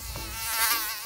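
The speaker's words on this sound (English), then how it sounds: "Mosquito." A mosquito whines with a steady, high-pitched buzz close to the ear, loud and continuous, inside a camper van parked at Yellowstone National Park.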